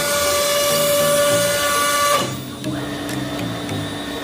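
A CNC engraving machine, model 8060Z, runs with a steady high-pitched motor whine. After a couple of seconds it shifts into a stepped, rhythmic pattern of pulsing tones as the spindle and axes move, close and continuous, with no talking.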